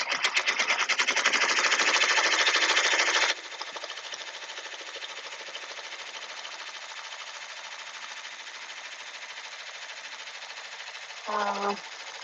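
Embroidery sewing machine stitching appliqué on a shirt in grey thread: a loud, fast rhythmic needle chatter at first, then settling into a steadier, quieter mechanical whir for the rest, with a brief tonal beep near the end.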